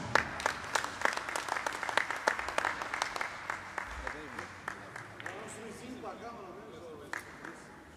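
Round of applause for the losing finalist at a Portuguese pool tournament prize-giving, a small crowd clapping in a brisk, fairly even rhythm that thins out, with people talking underneath as it fades.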